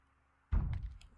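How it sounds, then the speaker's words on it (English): A single heavy thump lands behind a door in the zombie survival game Project Zomboid, a close, dull low impact after near silence, followed by faint rattling. "Thumping behind that door, it sounds like."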